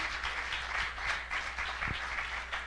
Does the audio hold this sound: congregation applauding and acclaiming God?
yes